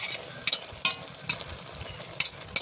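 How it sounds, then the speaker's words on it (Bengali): Pumpkin greens being stirred in a pan after sugar is added, a village-style Bengali dish; soft scraping strokes of the spatula come in a few sharp bursts over a low, steady sizzle, close and fairly quiet. "এবার একটু ভালো করে নাড়িয়ে দিই, যাতে সব কিছুর মধ্যে চিনিটা ঢুকে যায়"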